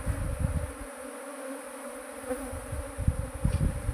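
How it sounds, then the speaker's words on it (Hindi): A honeybee swarm hums as it leaves the hive boxes, a dense, steady buzzing at close range with fluctuating intensity and no talking. "ये है दोस्तों स्वार्म का नज़ारा"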